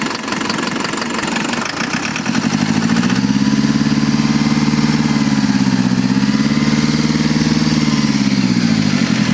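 A Mitsubishi Strada's 4M41 diesel engine, suffering low power, runs loud and close with a knocking, rattling clatter that steadies into a rough, even idle, with no talk over it.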